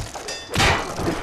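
A crossbow bolt strikes in BioShock with a single dull thud partway through, a short heavy impact over a muffled game background.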